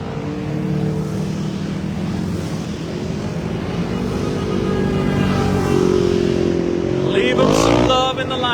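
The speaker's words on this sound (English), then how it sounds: "And here come all the ATVs." A procession of ATVs at a sheriff's charity ride passes close by as a loud, steady engine roar, with rising and falling pitch as machines go by and a sharper whine near the end.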